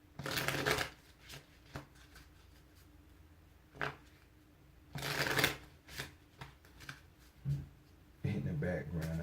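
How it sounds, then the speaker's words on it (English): Tarot cards are riffled and shuffled by hand in several quick bursts, close and crisp, with someone talking quietly between them. "Two more shuffles."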